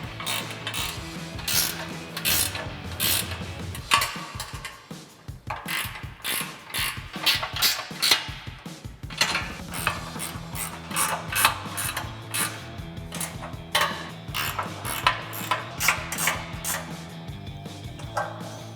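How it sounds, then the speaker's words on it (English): A 13 mm ratchet wrench tightens lock nuts on the side step bar brackets of a RAM 2500 truck, giving steady rapid ratcheting clicks in repeated close bursts with short pauses between strokes. "we're going to come in with a 13 mil ratchet wrench and tighten these down"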